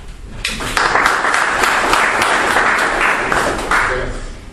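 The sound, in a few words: applause in a session hall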